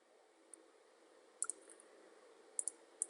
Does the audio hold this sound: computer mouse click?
yes